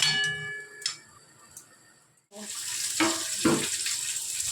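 Water is poured into a cooking pot of fish-head muri ghonto in a home kitchen, a steady splashing rush that starts midway after a quieter stretch of faint clinks and taps.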